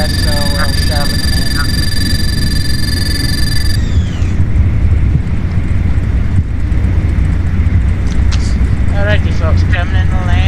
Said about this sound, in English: Let's listen to them engine sounds.